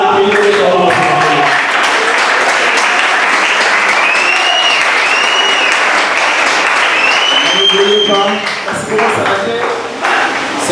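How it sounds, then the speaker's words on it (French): A church congregation claps for the Lord at the close of a sermon, with loud, sustained applause throughout and voices calling out and singing over it before the clapping thins toward the end. "Le temps est parti, applaudissez pour le Seigneur."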